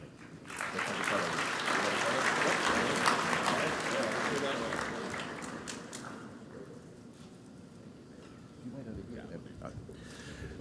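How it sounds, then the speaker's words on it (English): Audience applause at an Academy of Management general session award presentation, a dense burst of clapping that swells in the first seconds, holds loud, then thins and fades after about six seconds into low room noise and scattered claps. "we'll give them a big round of applause for the support they've offered us"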